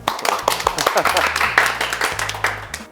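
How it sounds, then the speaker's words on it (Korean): A small group claps during a sit-down interview, with quick, uneven hand claps rising and falling over a low steady hum for a few seconds. "일단 박수 한번 칠까요?"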